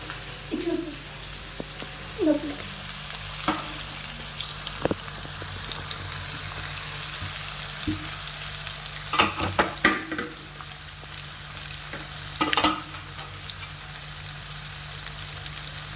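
Fish fillets coated in paste fry in a pan over a low flame, a soft steady sizzle running throughout with occasional clicks and scrapes as the pieces are turned, louder clatters near the middle and end.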